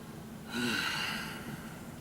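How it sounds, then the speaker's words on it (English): A close, breathy sniff drawn in through the nose over a glass of Highlander Brew Co's malty Albino Rhino winter beer. The single sustained inhale lasts about a second and a half, then fades into quiet. "Let's sniff this up."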